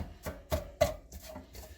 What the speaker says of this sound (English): I want to start taking my beautiful walleye here and chopping it up